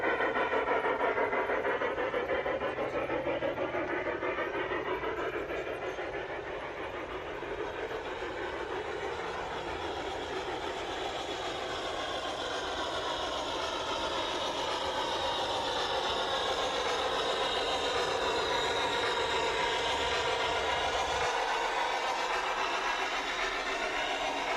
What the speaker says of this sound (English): we watch the local passenger train make